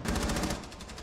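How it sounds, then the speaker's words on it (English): A loud burst of rapid automatic gunfire from a video game, a dense, continuous rattle of shots. "Is that not you shooting?"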